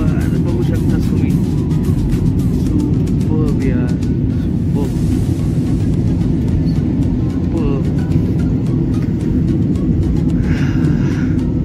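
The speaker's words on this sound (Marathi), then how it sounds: "चला केलं आपल्या विमानात टेक ऑफ केला" A passenger airplane's engines roar through a takeoff roll heard from inside the cabin on a first flight, with a loud, steady low rumble that holds throughout and faint voices under it.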